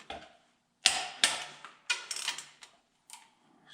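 A torque wrench tightens a bolt to 45 during reassembly of the first reduction on a John Deere B tractor, giving a few sharp, close ratcheting clicks in short irregular bursts separated by quiet gaps.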